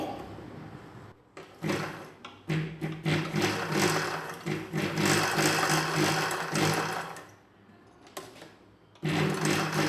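Domestic sewing machine stitching piping along the round neckline of a nighty, running in long loud bursts with short pauses between, close up and without voices.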